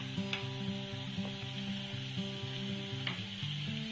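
Minapa garelu, urad dal fritters, deep-frying in oil make a dense, even sizzle close by, with a low steady hum underneath and a couple of brief crackles, no voices.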